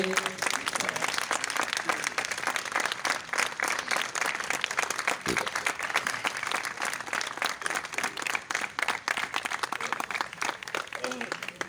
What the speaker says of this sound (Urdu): آپ سب کی تالیوں میں